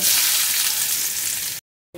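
Chopped onion sizzles in hot oil in a pan alongside dried red chillies, a loud, steady, close frying hiss that breaks into a brief silence just before the end.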